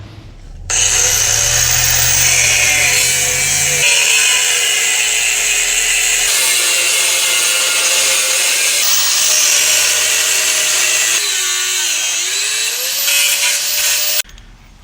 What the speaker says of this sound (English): it'll allow me to get my grinder in here and cut the main part of it out